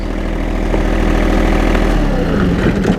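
A John Deere 1025R subcompact tractor's engine idles at lowered RPM, a steady close low drone whose pitch drops and changes near the end as the revs come down, with no talking.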